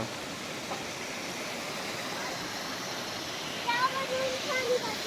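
A flowing water stream on a farm gives a steady broadband rush that stays even for several seconds, with a few faint high chirps near the end.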